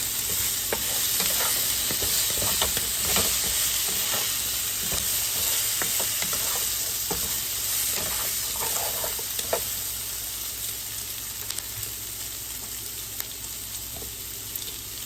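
Potatoes and onion fry in a skillet over medium heat, with a constant loud sizzle and repeated scraping strokes as the food is stirred. The sound is steady and close throughout.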